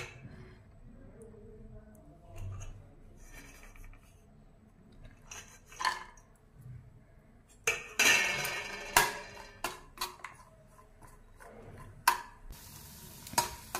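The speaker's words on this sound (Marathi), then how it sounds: "कढईमध्ये तर मी तूप घालतीये, ड्रायफ्रूट्स आपण थोडेसे तळून घेऊया." Dry fruits fry in ghee in a wok for moong dal halwa: a low sizzle runs under scraping stirs and sharp metallic clinks of a spoon against the pan, growing busier toward the end.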